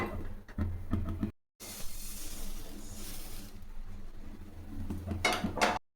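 Roasted flattened rice (aval) poured out of a hot pan, a sustained dry hissing rush of grains sliding out, framed by scraping and clinks of the spoon against the pan before and after.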